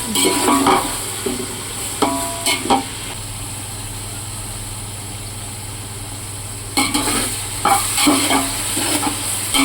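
Onions sizzling loudly as they fry until brown for a large batch of pulao, with spatula scrapes and stirring bursts at the start and again near the end around a steady frying hiss.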